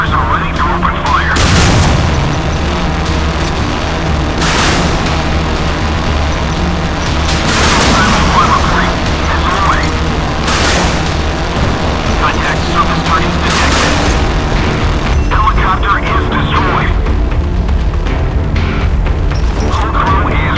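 Naval guns and missile launches in Modern Warships gameplay, a run of heavy booms every few seconds over a constant dense rumble, with a game voice calling out commands at times.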